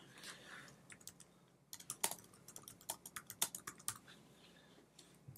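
A computer keyboard clicks as someone types a JavaScript script file for jQuery map design. Close keystrokes come sparse at first, then build into denser, irregular bursts of sharp taps.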